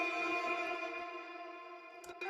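Heavily processed electronic drum samples in Ableton Live 11, washed in reverb, grain delay, compression and pitched reverb, ringing as a sustained, spacious tonal wash with a couple of short hits near the end, no voices.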